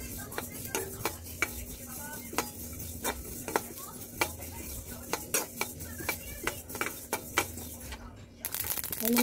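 Coriander seeds dry-roast in a pan for mango pickle, with a faint background rustle under a steady series of sharp scraping clinks as a spoon stirs repeatedly, close by and quiet.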